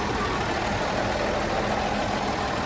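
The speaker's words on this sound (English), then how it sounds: "Don't stick your fingers near the engine, though." A John Deere JD6081H diesel engine idles in a 300D articulated dump truck, heard close up as a steady, even rumble throughout with no talk.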